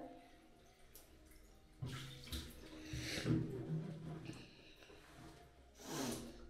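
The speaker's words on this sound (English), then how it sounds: "let the water go out" Quiet bursts of water gurgling and sloshing as a bathtub drains, rising and fading a few times against a faint background.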